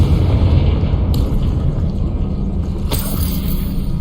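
Confringo blasting spell in the Hogwarts Legacy video game, a loud sustained rumbling explosion with a sharp crack partway through, filling the whole moment without any talk over it.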